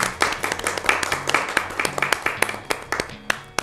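A studio audience claps steadily, dense overlapping hand claps forming sustained applause at moderate loudness with no talking.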